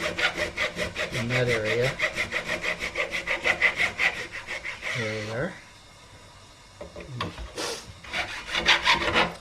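A file scrapes back and forth across hard Evo Gold guitar fret wire, leveling the frets in steady rhythmic strokes. The scraping stops briefly midway, then resumes, and someone speaks over the rasping.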